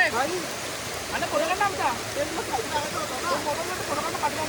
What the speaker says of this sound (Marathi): हा असा धबधबा.